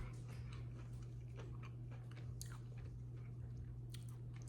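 A buttery chocolate cookie with white chocolate and caramel, crisp outside and chewy inside, being bitten and chewed up close: soft crunching and chewing sounds repeat over a steady low hum, with no talking.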